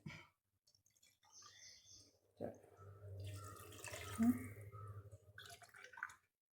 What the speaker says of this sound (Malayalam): അതിന് നമുക്കിതിലേക്ക് 4 കപ്പ് വെള്ളം ചേർക്കണം.